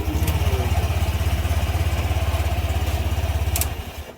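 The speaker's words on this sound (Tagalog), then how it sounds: "susubukan ko naman ulit papaandarin itong motor" A Honda Click V2 scooter engine, previously hard to start and draining its battery, runs close by with a steady, rapid putter throughout, easing off slightly near the end.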